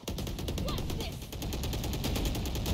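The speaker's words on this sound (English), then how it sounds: "I got shot through the smoke" Rapid automatic gunfire from a Valorant match fires in dense, continuous bursts throughout, loud and close, with faint game voice chat mixed in underneath.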